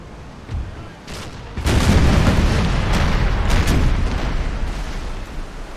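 Ship cannons fire in Empire: Total War naval combat: a couple of sharp booms, then a heavy rolling broadside that rumbles loudly for several seconds before easing off.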